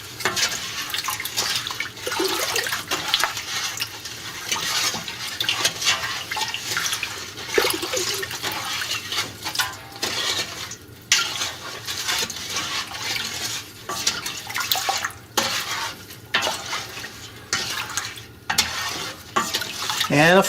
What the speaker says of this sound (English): we're going to give it a gentle stir.